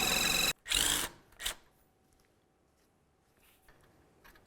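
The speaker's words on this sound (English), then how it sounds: "Use your 17mm to remove that nut." A 17mm wrench works a nut off the front lower control arm of a 2002-2006 Honda CR-V, giving two loud, short ratcheting bursts close by, then a smaller click, followed by near quiet.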